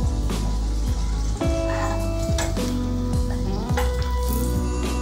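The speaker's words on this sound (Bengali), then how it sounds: "গ্যাসটাকে কিন্তু আমি একদম সিমে রেখেই পরোটাটাকে ভাজছি।" A chicken keema paratha fries in a pan over very low gas, a constant close sizzle running underneath repeated loud dog barks and yips.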